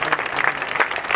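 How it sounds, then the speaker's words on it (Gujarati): An audience at a college prize distribution event applauds to welcome professors, a brief burst of dense, steady clapping close by with no speech. "તાળીઓના ગડગડાટથી સ્વાગત કરે."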